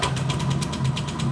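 Honda Vario 125 scooter, an older model with a starter fault, idling after being started: a low, even engine putter with rhythmic pulses and light mechanical ticking, close by and steady.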